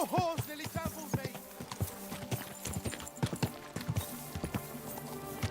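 Horse hooves clip-clopping in the medieval game Kingdom Come, a steady, loud rhythm of hoofbeats on hard ground running through the whole stretch with no talk over it.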